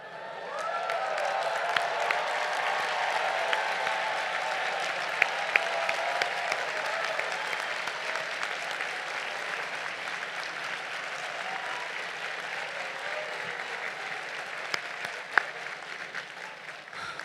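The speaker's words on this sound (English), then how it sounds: "We'd like to give you a round of applause to honor and recognize you." Steady, sustained applause from a large audience at a college graduate commencement ceremony, dense and even clapping filling the hall for the full stretch without cheering spikes.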